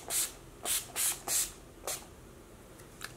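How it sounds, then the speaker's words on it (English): Skindinavia oil-free makeup finishing spray is misted onto a face in four quick close hisses, followed by a softer fifth burst and a faint tap near the end. "I need to spray my face, and I'm using my Skindinavia makeup finishing spray, oil-free"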